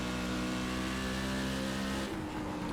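Race car engine in a video game at Bristol, a Silver Crown car, roaring loud and steady as it accelerates, with a slight drop in pitch near the end and no voices.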